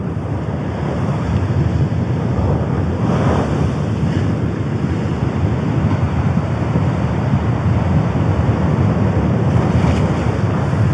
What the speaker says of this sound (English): getting a battering from waves, it's inside a tent and that every now and then.